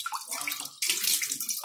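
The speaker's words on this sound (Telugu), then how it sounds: "ఇప్పుడు చూడండి వైట్ వాటర్ గా వాటర్ వాటర్ వస్తుంది, మీకు గిన్నెలో పడుతున్నాను" Water pours and splashes into a bowl as wheat flour is rinsed, a close steady gushing stream that swells louder partway through.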